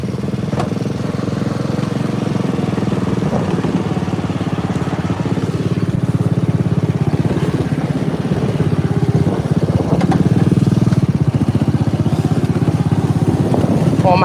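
John Deere riding mower engine running continuously while driving, with a slipping belt and tension problems, a loud close buzzing drone that swells slightly near the end.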